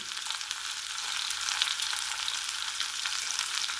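Dried red chilies frying in hot oil with cumin and fennel seeds, giving a steady, bright sizzle that holds at an even level throughout with no voices.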